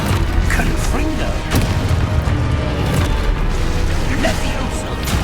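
Blasting spells explode in the video game Hogwarts Legacy: heavy, booming impacts and crashing bursts over a constant rumbling game soundscape, with a voice speaking along between the blasts.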